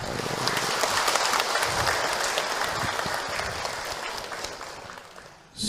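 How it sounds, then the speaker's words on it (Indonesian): An audience at an Islamic religious talk gives a round of applause for Ustadz Encep, a full and steady clapping that slowly fades before a sudden loud sound cuts in at the very end. "Tepuk tangan buat Ustadz Encep."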